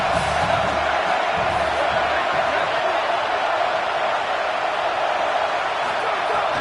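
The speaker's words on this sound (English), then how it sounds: "how nice is it to have the home crowd going absolutely bananas?" A home crowd roars at a college football game, a loud, dense, continuous wall of cheering and yelling that holds steady throughout, with a broadcaster's voice faintly mixed underneath.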